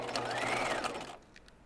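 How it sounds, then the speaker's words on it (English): A sewing machine runs a long straight basting stitch through layered fabric in one short, close burst that winds down after about a second. "So this can be a straight stitch. Just a longer straight stitch."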